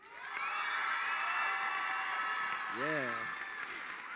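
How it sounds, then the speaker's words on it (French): Gala audience applauding and cheering as a judge is welcomed, a dense steady wash of clapping with whoops and shouts, and a voice briefly calling out near the end. "vous pouvez l'applaudir plus fort que les autres juges"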